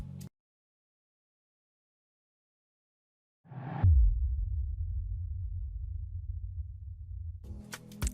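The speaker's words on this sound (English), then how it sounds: "next up we have this impact sound that played somewhere in the beginning" Impact effect from an Afrobeats beat remake: after a short blip and silence, a sudden noisy hit drops into a deep sub-bass boom that sustains for several seconds before cutting off, alone and loud.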